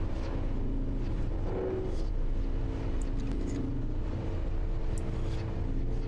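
A submarine-like vehicle's engine running at full power in the video game Nauticrawl, a steady, loud low drone with a mechanical hum that holds constant throughout, with faint clicks on top.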